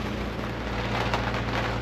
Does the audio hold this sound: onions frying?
no